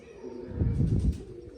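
A pigeon gives a single soft, low cooing phrase, brief and fairly close, with no speech.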